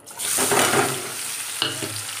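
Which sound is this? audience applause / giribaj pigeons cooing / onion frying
onion frying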